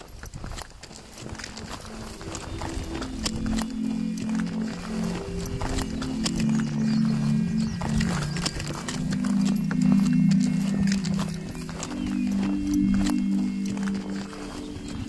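Donkey hooves clip-clopping on a mountain trail, a steady series of close hoof strikes that gets louder and denser toward the middle and continues to the end, with a low tonal drone underneath.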